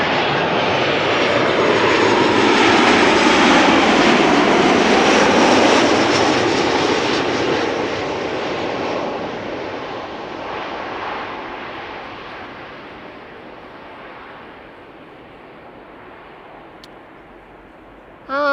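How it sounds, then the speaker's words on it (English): A Transavia Boeing 737-800 jet arriving at Schiphol Airport in sunny weather roars loudly up close, a broad engine rush that peaks early, then slowly fades and thins as the plane passes and moves away. "Transavia 737-800 arriving from Valencia"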